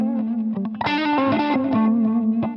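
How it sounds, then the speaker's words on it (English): Distorted electric guitar with chorus effects plays a blues lick with a sliding note, a held tone rising into a brighter sustained phrase and settling back, loud and close. "but I like the sound of it better using a slide."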